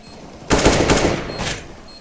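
Rifle gunfire in Counter-Strike: Global Offensive: a sharp burst of rapid shots breaks in suddenly and rattles for about a second, then a couple more cracks follow before it fades, loud and close with no talking.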